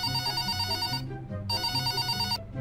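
Phone ringback tone on an outgoing call, two trilling rings each about a second long separated by a short pause, heard through the line with no one speaking.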